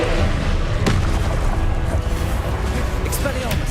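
Confringo spell blasts in the Hogwarts Legacy video game, a dense run of booming explosive impacts with a sharp crack near the start, continuous and loud.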